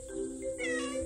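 A cat meows at home as an older woman calls it over to play with a toy, giving one drawn-out, clear meow close by with no talk over it.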